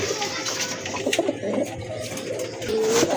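A pair of light-coloured satin pigeons coo indoors, soft repeated calls mixed into a murky background with faint voices and clatter.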